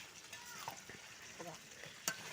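Quiet sizzling of chicken curry with fried potatoes in a pan, with a few soft scraping stirs and a sharp clink near the end, faint and close.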